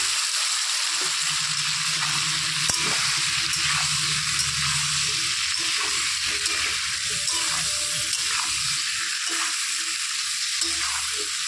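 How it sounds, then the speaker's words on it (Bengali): Potatoes and pointed gourd fry together in a pan with turmeric and salt, giving a steady, close sizzle that runs unbroken throughout, with faint scraping of stirring and a low hum underneath. "তো পটল আর আলু আমি একসঙ্গে ভেজে নেব।"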